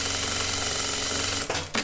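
A sewing machine runs steadily, stitching fabric to a zipper for a small coin pouch, with an even, fast mechanical whir that stutters briefly near the end.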